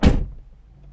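A car door on a Citroen C4 Picasso with an air suspension fault shuts in a single solid thunk, close and loud, and then fades into a low, quiet hum.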